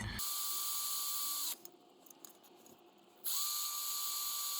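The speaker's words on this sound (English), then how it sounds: "I'm going to do some pilot holes" Power drill boring pilot holes into a Welsh dresser during upcycling, a loud steady whine running alone, dropping out briefly in the middle, then resuming at full strength.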